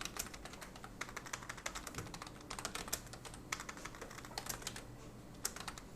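Quiet, rapid clicking of a computer keyboard as code is typed for a Java programming lesson, with key taps running continuously and unevenly with no talking.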